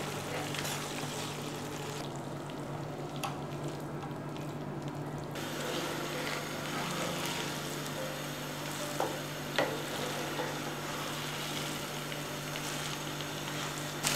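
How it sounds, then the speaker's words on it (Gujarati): Cooked rice with spinach and green chili is gently stirred in a pan over a low flame, giving a soft, steady sizzle with scraping strokes and a few sharp clinks of the spoon. "સ્ટવની ફ્લેમ સ્લો કરી દઈએ અને હળવા હાથે મિક્સ કરી લઈએ."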